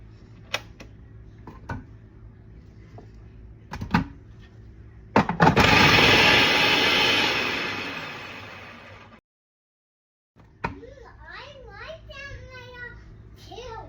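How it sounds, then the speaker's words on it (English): An electric slicer cuts onions for French onion sliders in a home kitchen, a loud whirring burst lasting a few seconds that then fades out, surrounded by clicks and a child's chatter before and after. "you might want to mute it if you don't like loud noises. Time to slice the onions."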